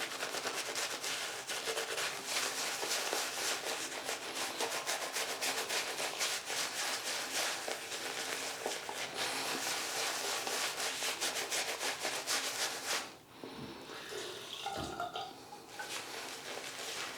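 A shaving brush works up lather from Bath House Spanish Fig & Nutmeg shaving soap with a continuous, close wet swishing and rubbing that stops abruptly, followed by a couple of softer dabs.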